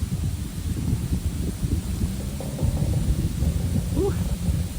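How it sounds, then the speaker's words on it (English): Steady outdoor wind gusting and rumbling in Tennessee, a broad continuous whoosh with low buffeting throughout, fairly close and strong, with a faint bird-like chirp near the end. "There's that beautiful Tennessee wind."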